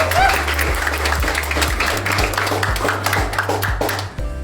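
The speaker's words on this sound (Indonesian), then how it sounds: "Aplaus dulu untuk kita semua." An audience at an OJK ninth anniversary celebration applauds, steady loud clapping from a crowd with rhythmic claps cutting through, continuing for several seconds before tapering off.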